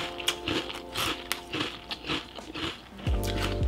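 Crisp, repeated crunching as a mouth bites and chews Magic Spoon vanilla low-carb cereal, about eight close, loud bites in an uneven rhythm, ending with a heavier rumble of chewing.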